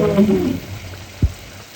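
Potatoes and eggplant fry with spices in a pot for a fish head curry, a short sizzle near the start followed by a single dull thump.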